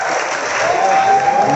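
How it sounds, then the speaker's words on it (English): An audience at a talk on marriage applauds: a steady, dense wash of clapping holds at an even level throughout, with no voices standing out. "Clap again!"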